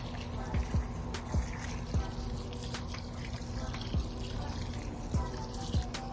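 Water splashes and drips onto garden plants in a yard, with a soft trickling wash and a series of separate low plops spaced irregularly, fairly close and without voices.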